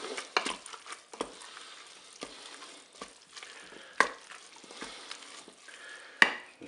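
Spaghetti with chicken and peas is stirred in a Cookeo multicooker pot after mustard goes in, giving faint, soft scraping strokes at irregular intervals with a light sizzle underneath.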